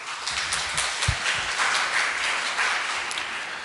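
A church congregation gives a Sunday worship choir group a round of applause, moderately loud and diffuse, heard from a distance with a few low thumps underneath.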